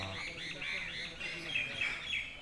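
Birds call repeatedly at a Rajshahi pigeon market, with chirping close by in a steady stream and a low murmur of crowd noise underneath.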